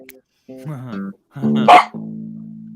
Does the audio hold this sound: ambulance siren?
no